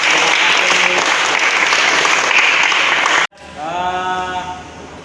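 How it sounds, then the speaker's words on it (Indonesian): A class of students claps in a burst of dense applause for about three seconds, then it cuts off abruptly and a voice begins speaking. "Kasih tepuk tangan dulu."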